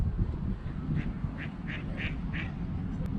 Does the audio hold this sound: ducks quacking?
yes